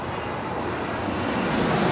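An aircraft engine roars steadily at Toronto Pearson Airport, a broad, loud, unbroken rumble that grows slightly over two seconds with no voices.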